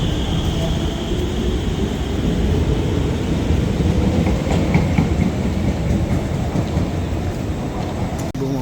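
A crowded Green Line passenger train gives a steady, loud rumble with rail clatter and a constant low roar throughout, with no clear voices.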